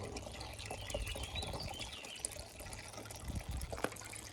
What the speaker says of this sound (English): we're filling the water up right now